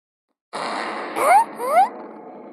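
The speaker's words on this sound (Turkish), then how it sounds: "abimizin üstüne osuralım" A cartoonish fart sound effect in a video game plays loud and close, a long buzzing blast followed by two rising squeaky bursts, with no talking over it.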